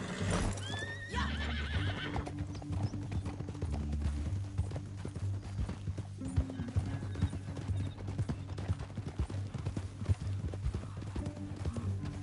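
Horses gallop through a canyon in the video game Red Dead Redemption 2, a dense steady clip-clop of hooves with a whinny near the start.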